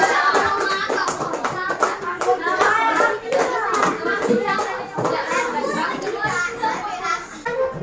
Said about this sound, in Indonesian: Itu beri tepuk tangan untuk kelompok Jawa.